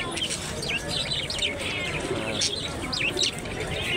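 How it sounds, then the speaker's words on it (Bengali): Many kinds of birds, pigeons among them, chirp and tweet in repeated bright calls over a steady background hum. A person talks at times alongside the calls. "অনেক ধরনের পাখি আছে"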